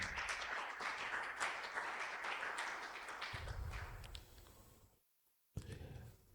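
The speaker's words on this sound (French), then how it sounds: "Est-ce que tu peux acclamer pour la gloire de Jésus? Acclame, acclame, acclame, acclame." A congregation claps and cheers together during a church Easter fasting and prayer service: dense, sustained crowd applause that thins out briefly near the end, falls almost silent, then bursts back in.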